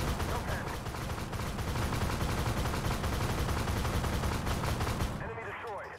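Rapid tank cannon and autocannon gunfire in the video game Armored Warfare from a T-15, dense and continuous at close range for about five seconds before cutting off near the end.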